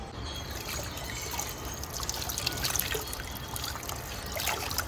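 Chopped coriander leaves are rinsed in water, giving a steady close trickle and light splashing with soft drips throughout, no talk.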